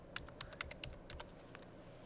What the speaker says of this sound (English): Go ahead and type in the titles.